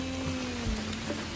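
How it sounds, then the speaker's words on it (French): Heavy rain pours down at night in Costa Rica, a dense, steady hiss of falling water with a faint low hum underneath and no voices. "il pleut des cordes"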